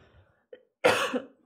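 A single sharp cough, close and fairly loud, preceded by a faint breath in a quiet room.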